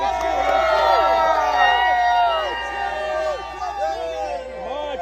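A crowd at a Trump rally in the Bronx cheers and shouts in unison, loud overlapping voices close by, swelling and then easing slightly.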